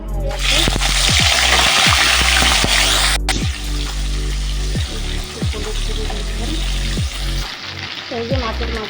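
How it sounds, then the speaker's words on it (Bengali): Fish heads spit and crackle loudly in hot oil in a wok, with a rushing hiss in the first few seconds and a dense, close sizzle throughout. "তো আমি এখন এই যে মাছের মাথাগুলো ভেজে নেবো। তেল গরম হয়ে গেছে,"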